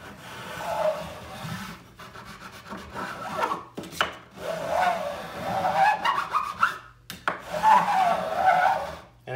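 A Grover gunsmithing file, second cut smooth and mounted on a grenadillo block, dressing the frets of a classical guitar during a refret, heard as long, steady rasping strokes that repeat in an even back-and-forth rhythm, close up with no speech.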